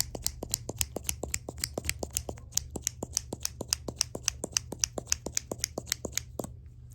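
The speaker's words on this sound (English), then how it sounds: "we are gonna start with me just brushing my eyebrows back because they're just a little messy right now" A brow brush sweeps eyebrows back in a series of quick, crisp bristle strokes at a steady rhythm, close to the microphone, with a low background hum and no talking.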